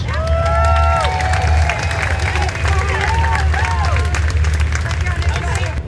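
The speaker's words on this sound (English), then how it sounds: "Please give them a round of applause." Outdoor crowd at a USSOCOM special operations capabilities demonstration in Tampa clapping and cheering for Army Rangers and international participants, with shouts and whistles over a low rumble of engines or wind.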